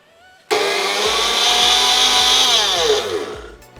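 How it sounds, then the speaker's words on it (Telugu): A kitchen grinder whirs loudly, grinding whole spices including cinnamon, cardamom and cloves, starting abruptly and running steadily for about three seconds before winding down, with no talk. "గ్రైండర్ చేసేస్తే"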